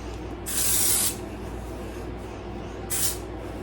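Two short bursts of a hairspray-like texturizing spray hiss from an aerosol can close up, the first longer, about half a second, and the second brief, with quiet between them.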